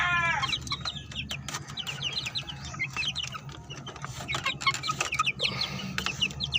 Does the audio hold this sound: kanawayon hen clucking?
yes